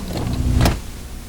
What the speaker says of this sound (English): just get this entire layer of noise going on underneath the entire transition, because we're kind of doing this VCR effect